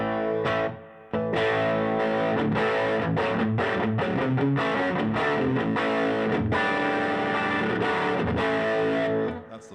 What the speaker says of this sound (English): That's the pedal distortion.